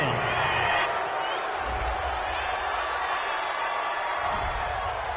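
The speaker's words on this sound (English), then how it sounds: "This home crowd, they're happy with that call." A home crowd cheers in a football video game, Lions at Titans, as a broad, constant stadium roar swells under game commentators talking.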